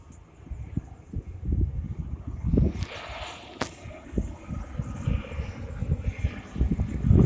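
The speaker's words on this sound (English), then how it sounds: "we can see another plane coming in the island as well" A JetBlue airplane approaching to land near Christ Church, Barbados, gives a moderate, distant jet roar beneath gusty, rumbling outdoor wind noise, with a sharp brief knock midway.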